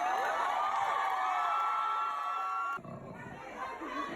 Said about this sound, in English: so a round of applause for us.